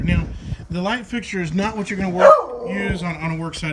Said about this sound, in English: sorry about my dog, she's so excited.